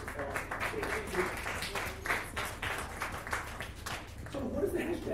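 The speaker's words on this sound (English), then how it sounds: "Can you please give a round of applause" Scattered applause from a small audience at a book launch, uneven bursts of clapping in a room with talk and voices mixed in over the top.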